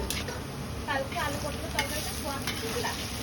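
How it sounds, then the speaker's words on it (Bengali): Potatoes cut as French fries deep-fry in hot oil, giving a close, constant crackling sizzle with small popping bursts throughout. "চলো এবার ডিপ করে ভাজা হচ্ছে, ডিপ ফ্রাই।"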